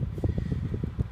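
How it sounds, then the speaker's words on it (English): Air conditioning blowing inside a 2014-2016 Lexus IS350 F-Sport, a soft, steady windy rush of airflow in the cabin with faint fluttering buffets against the microphone. "Sorry if the air conditioning is making the video sound windy."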